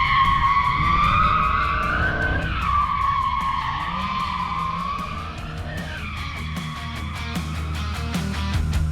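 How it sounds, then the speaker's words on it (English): Tires squeal and skid loudly as a Hellcat-swapped Dodge Viper drifts, the pitch sliding up and down over a rumbling engine, with no talking. "We're doing some drifting."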